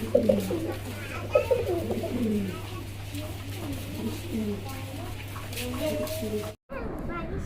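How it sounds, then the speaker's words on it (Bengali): A pair of black Maltese fancy pigeons, long-necked show birds, give soft, repeated coos close by while someone talks throughout. "মাশাল্লাহ প্রিয় দর্শক দেখতে পাচ্ছেন এখানে একজোড়া জিরাফ গলার ব্ল্যাক মাল্টেস।"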